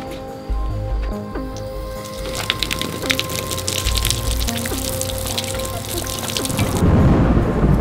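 Steady patter of small water droplets falling onto a surface, with a continuous low hum underneath that swells toward the end.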